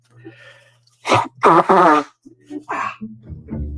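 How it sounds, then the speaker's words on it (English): A couple of forceful nasal blasts, close and loud, with a short wet honk afterward; quiet low hum in the background between bursts. "let me blow my nose again"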